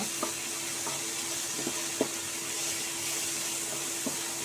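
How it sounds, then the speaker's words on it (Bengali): Spice paste of cumin, coriander and chilli powder fries in a pan with a constant soft sizzle, broken by a few light scraping knocks from stirring, close and without talk. "এবার ভালো করে মশলাটা কষিয়ে দেব"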